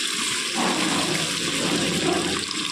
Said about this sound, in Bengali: এরপর একটু কম করে জল দিয়ে দেবো